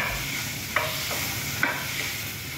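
Chicken breast sizzles steadily in a hot pan as it is sautéed, with a few scraping stirs from a utensil, close and fairly loud, and no voices.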